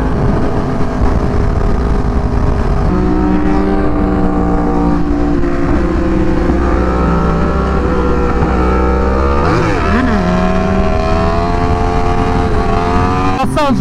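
A motorcycle with a failing clutch runs on the freeway beside other bikes, its engine droning loud and steady under heavy wind rush with shifting revs and an uneven, odd-sounding tone.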